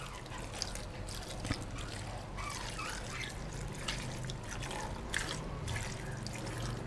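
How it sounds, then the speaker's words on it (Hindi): Two glasses of water poured into a pot of beef karahi, a soft continuous trickle and splash over low background hum, fairly quiet and close. "और अब इसमें हम डाल देते हैं 2 गिलास जो है ना पानी डाल देते हैं इसमें।"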